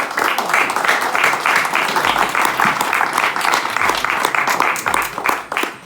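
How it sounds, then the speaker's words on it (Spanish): A crowd applauds steadily, dense clapping filling the room loudly and continuously throughout. "Aquí yo quiero que le demos un aplauso a don Edwin"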